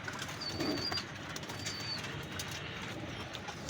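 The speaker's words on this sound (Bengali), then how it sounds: "41 নম্বর টেডি কবুতর।" Teddy pigeons coo faintly and flutter their wings nearby, with soft, quiet calls and brief rustling flaps over a low ambient background.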